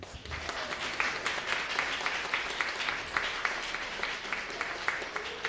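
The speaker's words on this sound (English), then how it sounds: "give them a round of applause, please" Audience applause at the Cayman Young Writers 2023 finale, a steady crowd clapping that holds at moderate level throughout without talk.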